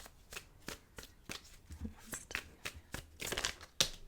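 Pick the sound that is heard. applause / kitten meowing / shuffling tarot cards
shuffling tarot cards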